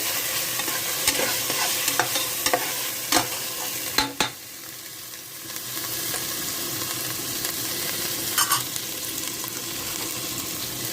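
Ginger, garlic and rice frying in a pan for meal maker pulao, a steady close sizzle with sharp scraping stir strokes at irregular intervals, a brief quieter gap midway.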